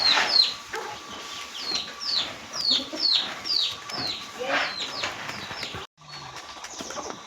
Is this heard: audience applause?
no